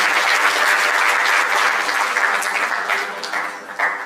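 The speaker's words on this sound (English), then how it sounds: "Another round of applause for me." An audience at a mental wellness breakfast conference breaks into a round of applause, dense and loud at first, then gradually thinning and fading toward the end with a brief late swell.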